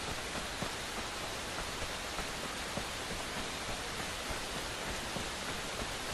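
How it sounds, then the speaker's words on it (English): Steady rain falling in the survival shooter game Fear the Wolves, a constant dense hiss of drops with no breaks, even and moderately loud with no voices. "is that an acid rain or is it just raining?"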